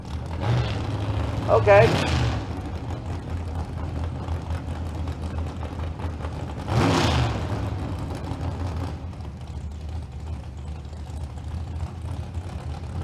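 Drag racing cars, including a Chevy and a '79 Camaro, run at Famoso Dragstrip. Two loud roaring surges sweep past a few seconds apart over a steady low rumble, with a commentator talking.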